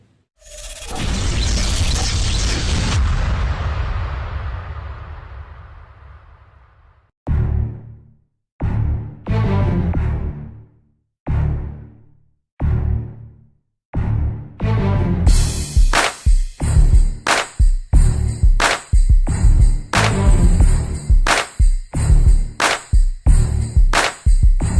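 Sharp, booming rifle shots from a Ruger Precision Rifle chambered in .308, first a long rumbling blast, then a string of separate loud reports at uneven intervals, and finally a faster run of cracking shots with bright metallic ringing.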